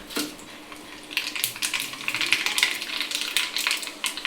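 Mustard seeds spluttering in a little hot cooking oil in a ladle over a low flame, a quick crackle of bright pops and sizzles that thickens and bursts irregularly, with an occasional clink of metal.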